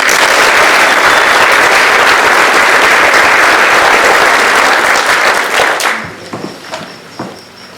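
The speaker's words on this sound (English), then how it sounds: "Let's give a round of applause for the class of 2021." A graduation crowd at Proctor High School applauds the class of 2021, a loud, dense, sustained wash of clapping that thins out near the end to a few scattered claps.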